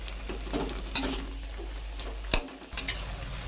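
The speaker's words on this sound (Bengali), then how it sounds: "এরকম করে ভেঙে ভেঙে দিয়ে সিমটাকে ভালো করে মিশিয়ে নিতে হবে।" Flat beans being stirred and broken up in a pan as the water cooks off, with a steady low sizzle and several sharp scrapes and clinks of a utensil against the pan.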